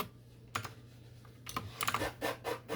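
Keystrokes on a computer keyboard while entering a Minecraft server operator command, a few isolated taps followed by a quicker burst of typing, fairly quiet and close with no voices.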